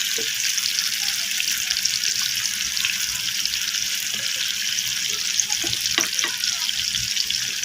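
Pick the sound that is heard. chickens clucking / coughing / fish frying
fish frying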